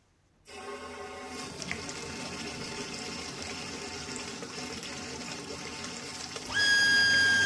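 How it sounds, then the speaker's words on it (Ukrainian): Water rushes from a tap that has just been opened on a setup with a Shimge PS-09 pump pressure controller. The flow is steady and close, turns louder near the end, and carries a thin whistling tone. "Так, відкриваємо кран, дивимось."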